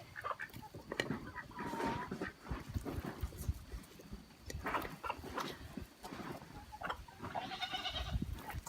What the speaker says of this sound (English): See the goats down there.